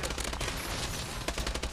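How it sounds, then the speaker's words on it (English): Rapid gunfire in a multiplayer shooter video game, with dense overlapping shots rattling in quick bursts, loud and close through the short span with no talk. "I got a couple shots on him."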